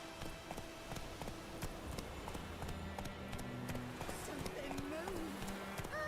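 Horse hooves clip-clop at a gallop in The Witcher 3, a steady rhythmic run over game music with low sustained tones and a faint voice.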